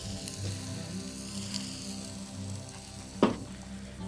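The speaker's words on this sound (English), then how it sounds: "Still sizzling hot" Freshwater prawns (cherabin) sizzle on hot coals over a fire, a steady close crackling hiss with one sharper pop near the end and no talking.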